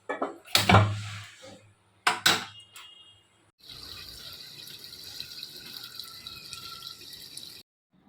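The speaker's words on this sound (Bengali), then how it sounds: "রান্না করার জলটা একদম শেষ হয়ে গিয়েছিল, তো সব শেষ করেই ইচ্ছা করে আজকে জলটা নিতে এলাম" Tap water running steadily into a container of cooking water, a continuous hiss lasting several seconds after a few sharp knocks and clatters at the start, then cutting off.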